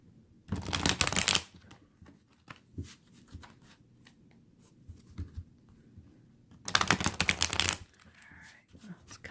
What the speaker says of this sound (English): just put the cards right here